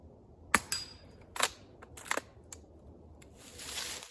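Savage Mark II FVSR .22 rimfire rifle with a fluted barrel fired at steel targets outdoors, several sharp, fairly faint cracks spaced irregularly, each followed by a brief tail, with quiet ambient noise between.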